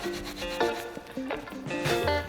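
Soft, uneven rubbing strokes as a Ferrari F40 coin is polished by hand to lift particulates off its surface, faint and close with irregular scratchy bursts.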